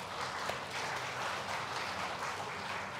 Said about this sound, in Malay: Saya mohon kita beri tepukan